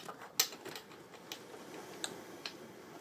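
A T socket wrench works on the outer chain cover of a ROK 400mm 45cc chainsaw, producing faint scattered clicks, ticks and small metallic knocks in a quiet room.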